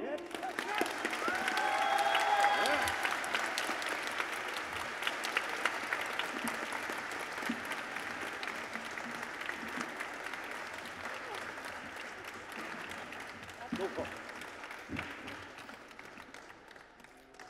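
A convention audience at Japan Expo applauds loudly to welcome a guest on stage, sustained clapping that peaks early then slowly thins, with a voice speaking over it.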